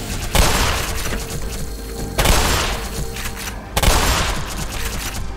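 Three heavy shotgun blasts from the Black Mesa video game boom out at roughly even intervals, each a loud broadband crack followed by a decaying tail and rumbling in-game noise between shots.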